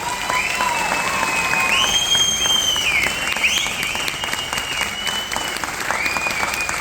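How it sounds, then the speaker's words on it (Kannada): A large audience claps loudly and continuously at a live stage event, with cheering whistles cutting through the dense wash of applause. "ಜೋರಾಗಿ ಚಪ್ಪಾಳೆ ಹೊಡೆದಿದ್ದ"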